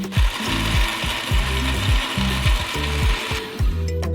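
A kitchen blender purées melon pulp at top speed, a loud, close mechanical whir that pulses in a rough, repeating rhythm as the blades churn the fruit.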